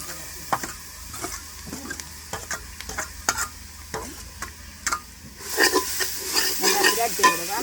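Beetroot stirred and fried in a pan, with a steady sizzle under repeated scraping strokes of the spoon that grow louder and busier toward the end.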